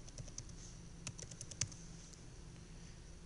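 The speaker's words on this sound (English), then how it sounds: "you're going to type in your email address" Someone types an email address on a computer keyboard, quick light key clicks in an uneven run with one sharper tap, faint and close, with no talk.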